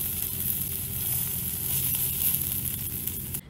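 Pambazo bread dipped in red salsa sizzles steadily in a hot frying pan, a dense, even crackle of oil that holds loud and close throughout before cutting off abruptly near the end.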